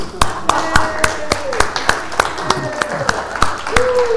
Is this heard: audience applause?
yes